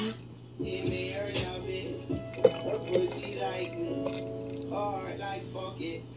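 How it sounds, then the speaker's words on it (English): Freshly made apple juice pours into a glass, a liquid gurgle and trickle that rises as the glass fills, heard under a voice and nearby sounds. "So I'll pour it out and show you what it looks like in a glass. Now we're pouring it in."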